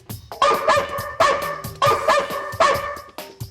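A dog barks four times, close and loud, each bark followed by a short gap in an even, repeating rhythm.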